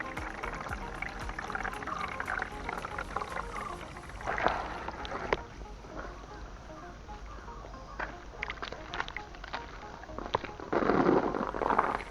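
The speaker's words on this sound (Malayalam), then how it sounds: "നമുക്ക് സിമെൻറ്റിൽ ഒഴിക്കാൻ കുറച്ച് വെള്ളം ആവശ്യമുണ്ട്." Water poured out in uneven gushes onto cement while fixing a water leak, splashing and trickling on the hard surface, with brief louder surges and no talking.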